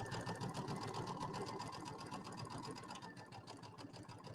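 A sewing machine stitches steadily down the center of a fabric bench buddy project. Its needle chatters in a fast, even rhythm, close and quiet, with no talk over it.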